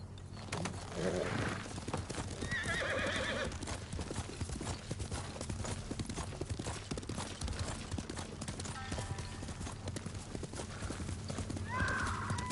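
Horses galloping in Ghost of Tsushima: rapid, close hoofbeats running throughout, with several whinnies and neighs, birdsong and faint game voices underneath.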